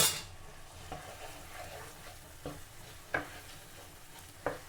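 Garlic dropped into hot oil for garlic pickle, a soft steady sizzle with occasional spoon scrapes and clinks against the pan, no voices.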